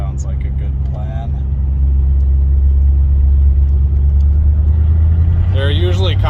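A Chevrolet Nova, running again after budget repairs, drives through a 30 mph zone with a loud, steady low engine rumble that holds throughout, and brief vocal sounds come at the start and near the end.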